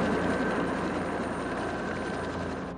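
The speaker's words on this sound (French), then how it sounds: "Bond et Aki voient d'ailleurs l'hélicoptère jeter la voiture en mer." A helicopter's steady droning rotor roar in a James Bond film scene, loud and continuous, slowly easing toward the end.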